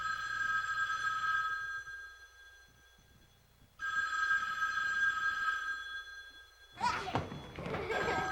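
A telephone rings in a home, two long electronic trill bursts with a pause between them, followed by a thump and rustling, fairly quiet under the room ambience.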